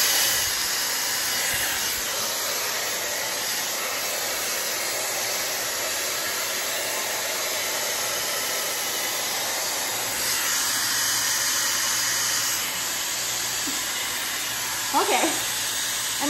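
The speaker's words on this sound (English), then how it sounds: "So I might just go through my whole hair and dry it" An Airpro hot air styler blows a steady, loud hiss of hot air while drying hair, holding constant for the whole stretch with a brief rustle near the end.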